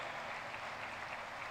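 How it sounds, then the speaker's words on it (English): Audience applause welcoming a chief guest, Lieutenant General Ajay Kumar Singh, at a social leadership development program; a steady, dense wash of many hands clapping at a distance, even and sustained with no voices over it. "please put your hands together and welcome with a big round of applause"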